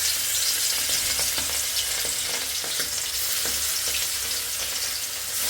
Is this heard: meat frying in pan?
yes